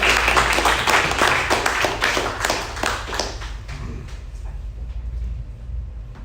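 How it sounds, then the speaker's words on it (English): A round of applause from the audience at a talk on genomics and transhumanism, dense clapping loud at first and gradually thinning and fading over several seconds. "we'll give a round of applause to James Ferguson."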